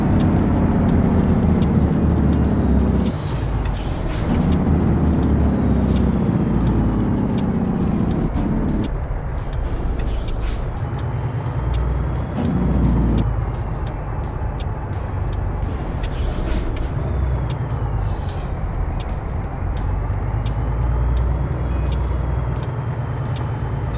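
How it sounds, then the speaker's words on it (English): Jake engine brake on a Freightliner Classic XL truck in American Truck Simulator, a loud steady low rumble lasting throughout while descending an incline, with brief hisses and faint beeps over it. "we'll go ahead and throw the Jake on here since we are going down an incline"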